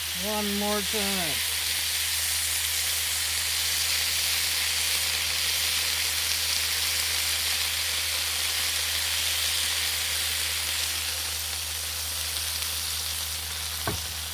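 Smash burgers sear on a Blackstone griddle in a steady, loud broadband sizzle that fills the whole stretch, with a brief voice near the start and a sharp scrape or clack right at the end.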